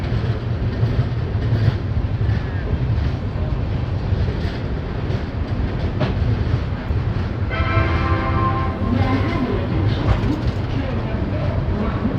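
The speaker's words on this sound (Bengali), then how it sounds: "রাত একটা বেজে এগারো মিনিটে ট্রেন এসে পৌঁছালো গয়া জাংশন" Chambal Express train rolling into Gaya Junction at night, a steady heavy rumble of wheels and carriages, with a brief tonal squeal of brakes or horn partway through.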